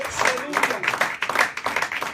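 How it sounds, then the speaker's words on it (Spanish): Congregation in a church breaking into applause, loud sustained clapping from many hands, close and full, with a voice carrying faintly beneath the crowd. "Podemos darle ese fuerte aplauso a él."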